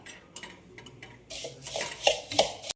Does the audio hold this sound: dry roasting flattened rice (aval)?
yes